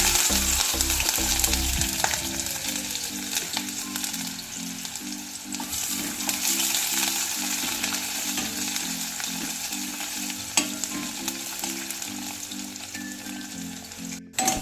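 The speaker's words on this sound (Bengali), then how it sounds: "এবার আমি কিছু পরিমাণ পেঁয়াজ কুচি দিয়ে বেরেস্তা করে দেবো।" Chopped onions sizzle steadily in hot white oil while being fried crisp for a dhaba-style egg dish, a loud continuous crackle with a rhythmic pulsing hum beneath it and no talk.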